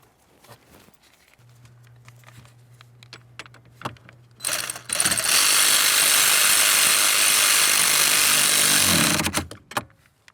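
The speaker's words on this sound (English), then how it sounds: "Now we can grab our pinch bolt, start it in, snug it up." Tightening a pinch bolt on the steering shaft of a 2005-2010 Chevrolet Cobalt with a power tool: a steady low hum starts the clip, then a loud, sustained whirring burst runs for about four seconds before cutting off, followed by faint clicks.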